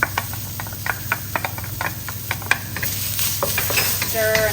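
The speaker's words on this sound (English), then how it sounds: "stir and let it cook for about 10 seconds" Ginger and garlic stir-frying in a hot pan for a beef stir fry, with a steady sizzle under repeated close scraping strokes of a spatula against the pan.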